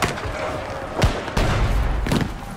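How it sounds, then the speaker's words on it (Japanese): Gunshots fired from a watchtower in the stealth game Shadow Tactics: Blades of the Shogun, a few sharp cracks spaced about a second apart over a noisy background. "塔から発砲。"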